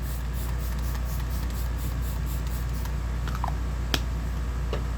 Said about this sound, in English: I'm going to go in with Essence Fix and Last Setting Spray.